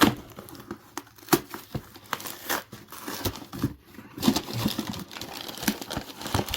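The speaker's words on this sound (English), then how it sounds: "I'm just gonna tear open this box" A cardboard box for a First Alert SA76RC smoke alarm being torn open by hand, with close, irregular crinkling and ripping bursts continuing throughout.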